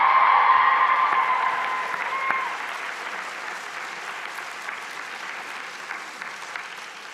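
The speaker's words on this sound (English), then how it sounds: "Give yourself a round of applause." Convocation graduates of a School of Health clap for themselves in a large hall, a dense, steady wash of applause that is loudest at first, with one sustained whistle early on, then gradually thins.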